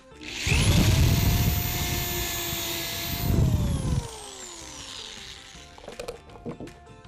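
A power drill spins up and bores a second pilot hole in wood for a wine rack, holding a loud steady whine for about three seconds before winding down, followed by a few light clicks and handling sounds.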